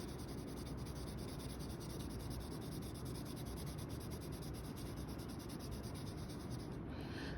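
A colored pencil lightly shades across paper, filling in a box with a continuous, faint, rapid back-and-forth scratching heard close up and alone.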